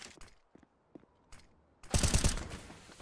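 Gunfire from a competitive esports match of a shooter game, with a few sparse distant shots early on, then a loud dense burst of rapid shots that tails off.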